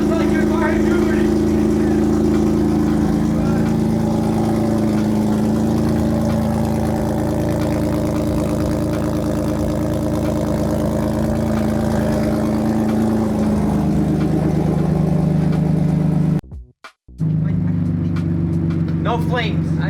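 BMW E36 car engine running with a loud aftermarket exhaust, a deep steady drone held for most of the stretch, briefly cutting out near the end before resuming.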